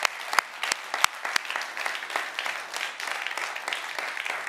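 Audience applause for a singer after an emotional song, a steady wash of clapping from a room of listeners with a few sharp nearby claps standing out, sustained throughout.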